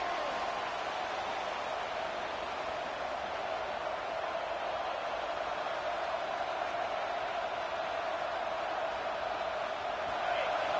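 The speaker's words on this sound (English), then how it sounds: "Decibels rising as the crowd gets behind this defense on third down." Steady roar of a home stadium crowd during a college football game as the defense faces third down, a dense continuous wash of cheering and noise that swells slightly toward the end.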